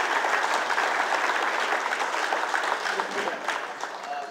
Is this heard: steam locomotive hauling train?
no